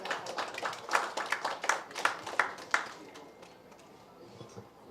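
An audience claps at a music video promo launch, with several loud, distinct claps in quick succession early on that thin out and fade into quieter background murmur.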